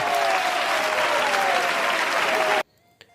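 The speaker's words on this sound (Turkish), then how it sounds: "Bütün güzel alkışlar size." Applause sound effect of a crowd clapping, dense and steady for about two and a half seconds, then cut off abruptly to near silence with one faint click afterward.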